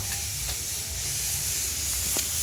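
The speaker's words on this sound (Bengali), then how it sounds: "এদিকে এখন হবে ডিম ভাজা।" Eggs frying in a pan produce a steady, close hissing sizzle with faint crackles over a low background hum, no voices.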